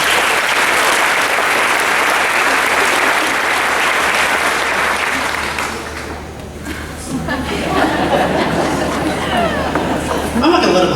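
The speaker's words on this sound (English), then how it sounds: "let's give a big round of applause for our students" Loud, sustained audience applause for students at a recognition ceremony, a thick wash of clapping for about six seconds that thins out as crowd chatter and a speaking voice take over, with a brief renewed burst near the end.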